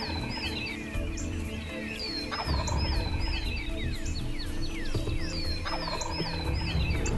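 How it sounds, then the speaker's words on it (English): A wild turkey tom gobbles repeatedly from its roost in a spring hunting setting, several loud rattling gobbles rising above a dense chorus of other birdsong and chirps, alone without talk. "we could hear this old Tom gobbling his head off on the roost"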